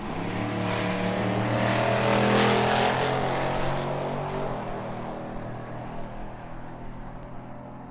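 Dodge Challenger and Chevrolet Camaro drag race cars roar loudly side by side at a drag strip, a sustained engine blast that swells early and then trails off as the cars pull away.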